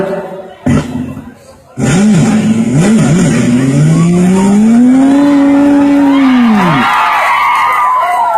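After a couple of sputtering attempts, a Pulsar motorbike engine catches and revs loudly nearby, its pitch climbing, holding, then dropping away.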